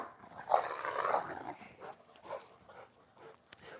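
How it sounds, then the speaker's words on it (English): A Rottweiler growls and grumbles in short, fairly quiet bursts while playing, a few rough vocal pulses spread over several seconds with no talk. "she's so loud. My Rottweiler is so like vocal"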